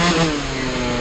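An MBK Booster scooter fitted with a 70cc Athena Sport kit revving in town, a loud, close, sustained buzzing two-stroke engine note holding high throughout.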